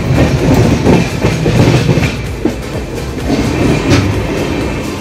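The Sealdah-Jalpaiguri Road Express pulling out of platform 3 at New Jalpaiguri, a loud, continuous rumble of wheels with rhythmic clickety-clack close by.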